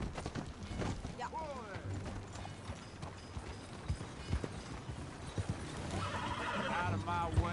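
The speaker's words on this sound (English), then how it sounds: "That new horse?" A horse in the Western video game Red Dead Redemption 2 whinnies loudly several times over clip-clopping hooves, with faint mechanical rattles and a voice in the mix.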